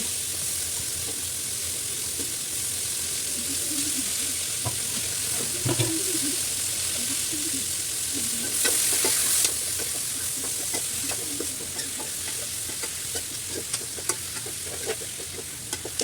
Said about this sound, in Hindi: आलू को मैंने चला लिया अच्छे से।